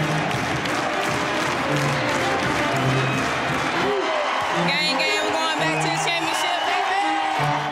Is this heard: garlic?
no